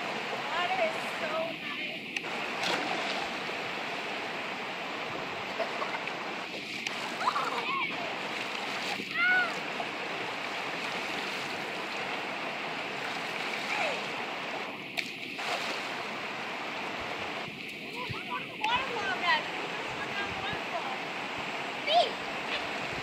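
A waterfall roars in a continuous broad rush, with occasional splashes and brief dips, while people talk intermittently over it.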